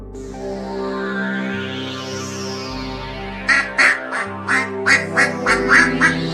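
A cartoon duck quacks about nine times in a quick, bouncy series, loud and near, over a sustained musical drone in an animated Bengali story.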